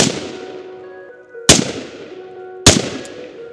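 Two sharp handgun shots fired at a target with a red dot sight, spaced about a second apart, each loud and close with a ringing decay, over a quiet background.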